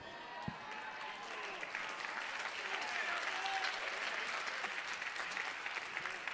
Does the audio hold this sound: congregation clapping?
yes